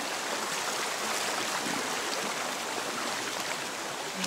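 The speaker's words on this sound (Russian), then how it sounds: "Горная река." A mountain river rushes close by during a hike in the mountains, a loud, broadband, unbroken wash of flowing water with no pauses or voices.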